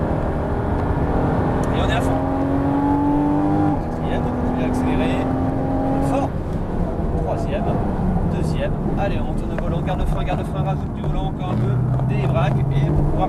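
Porsche Cayman S on a race track at Dreux, engine pulling up through the revs with a quick shift, then steadier throttle, heard from inside over road and wind noise with a voice coaching throughout.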